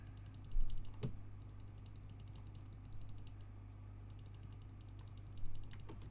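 Computer mouse left button clicked several times in sparse, light taps while retouching a portrait, very faint and close over a steady low hum, with no talking.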